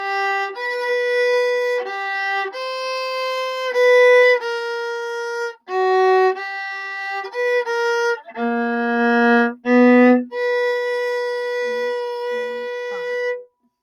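A cello plays a phrase from a Harry Potter theme, a series of clear bowed notes and short gaps, loud and close with nothing else heard.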